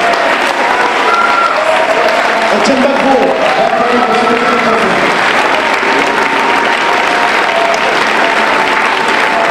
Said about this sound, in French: on peut acclamer Étienne pour cet exploit